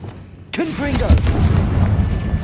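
A Confringo spell blasts in Hogwarts Legacy, a sudden loud boom followed by a rumbling roar that lingers, with a voice calling out over it.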